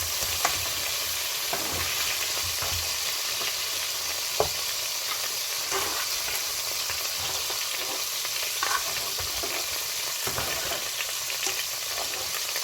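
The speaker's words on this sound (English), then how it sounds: "Okay, so now I'm going to be frying the prawns." Prawns sizzle steadily in a hot pan, a constant crackling hiss with occasional pops and stirring clicks, no voices.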